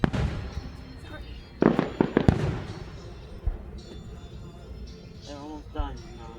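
Fireworks thump and crackle in an uneven series of pops, a dense burst early on followed by scattered later bangs, while people talk nearby throughout.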